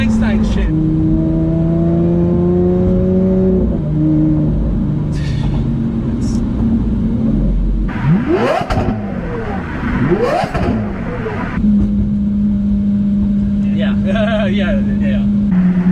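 Straight-piped Lamborghini Aventador engine revving hard, with a loud rising and falling drone, sharp throttle blips and sweeping pitch swings, up close and continuous, with talk partly over it.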